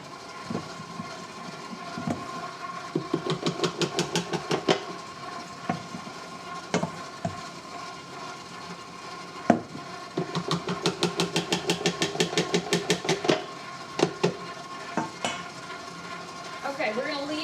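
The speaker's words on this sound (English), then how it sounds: "As the dough hook spins, you'll see that it starts to pull more and more in" A stand mixer's dough hook kneads cinnamon roll dough, giving bursts of rapid rhythmic knocking and clatter against the bowl over a low motor hum, with pauses between runs.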